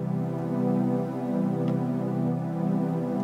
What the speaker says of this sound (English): So altogether, our chord progression sounds like this on the synth.